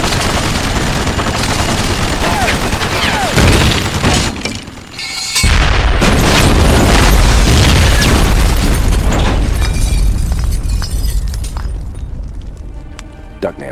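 A cartoon gunfire volley bursts out as a dense, loud barrage of shots and booms, sustained with a brief drop in the middle and tapering at the end.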